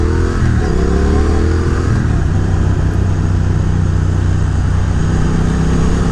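A Triumph Speed Twin motorcycle pulls hard under full throttle, a steady loud engine roar with harmonic bands that rise as it accelerates early on, then hold level and continuous, with no talk.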